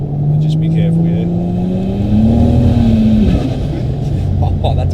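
A 1000HP turbo Barra car accelerating hard in third gear, its engine note droning and climbing steadily, loud and close, then easing off near the end.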